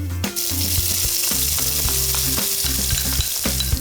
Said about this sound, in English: The mustard seeds start to splutter as soon as they hit the hot oil.